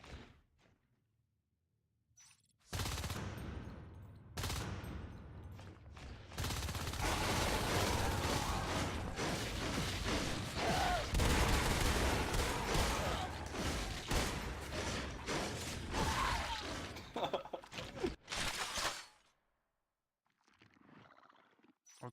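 Sustained bursts of automatic gunfire from the Natural Selection 2 video game, dense rapid shots over several seconds, loud, ending in quiet.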